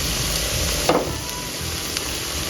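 Minced pork stir-fried until dry in a pan for a Thai holy basil omelette, with a steady close sizzle, a couple of brief scraping stirs and no talking.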